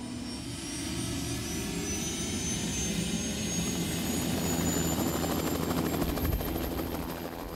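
A helicopter flies over an oil field, its rotor and turbine roar steady and fairly loud throughout, with a faint rising whine and a rhythmic low chop underneath.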